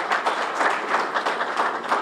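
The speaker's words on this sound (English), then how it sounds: "So give them a round of applause," Applause for the co-hosts at a mayor's fellowship luncheon, a steady dense patter of many hands clapping at an even level throughout, with no talking over it.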